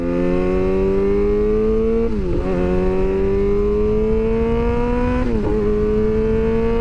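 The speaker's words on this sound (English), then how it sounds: "as the bike gets louder, I just upshift into the next gear, and now we're going to faster speed" A motorcycle engine revs steadily upward in pitch, drops sharply twice as the rider upshifts into higher gears, then climbs again with a loud, continuous, close-up drone.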